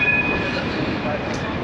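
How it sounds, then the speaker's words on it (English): Train at Amsterdam Centraal station, a steady rumbling rail noise with a faint high whine running throughout, with no voices over it. "This behind me is the central train station, or Amsterdam Centraal."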